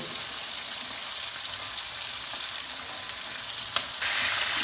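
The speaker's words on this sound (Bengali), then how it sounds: "এবার এর মধ্যে আমি এই কেটে রাখা ডাঁটাগুলো অল্প ভেজে নেব" Steady, even sizzling of drumstick stems frying in hot oil, continuous and fairly close, with no talking.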